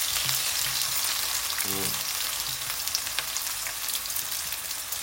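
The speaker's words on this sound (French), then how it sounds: "on a mis l'huile à chauffer. Donc on va commencer avec les petits oignons." Small onions fry in hot oil in a pan with a steady, close sizzle that hisses throughout, and a single brief word is spoken over it.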